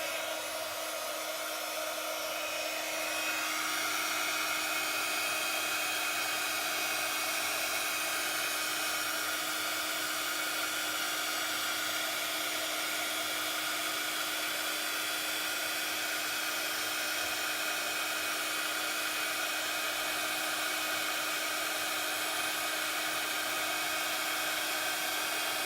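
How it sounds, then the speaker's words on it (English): Heat gun blowing hot air over a stamped paper card, a continuous close, even whirring hiss that holds steady for the whole stretch with no talking. "So let's get my heat gun."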